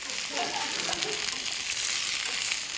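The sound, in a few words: stirring vegetables with broccoli in a frying pan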